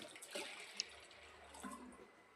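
Water poured and swished over dal in a bowl, rinsing the lentils for puran poli: a soft, faint, close trickle and slosh with a few light splashes and drips, and no voices.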